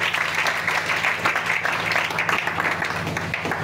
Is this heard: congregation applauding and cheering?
yes